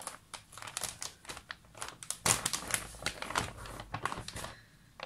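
Crinkly plastic packaging rustling and tearing open around folded BTS merchandise clothing, close and fairly quiet, with irregular crackles and one sharper rip partway through.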